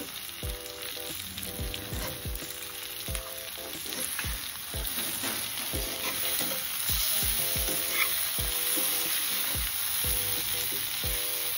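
Bitter gourd frying in a pan with ground coconut, garlic and chili powder, a constant close sizzle with regular stirring scrapes and clinks, no talk.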